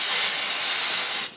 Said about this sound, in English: just going to plan on using a full thing of brake cleaner